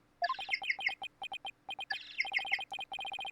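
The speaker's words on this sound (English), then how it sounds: "That's my ringtone." Electronic chirping ringtone from the video game Apollo Justice, repeated bursts of bright, high bird-like tweets in a quick rhythmic pattern, clear and alone.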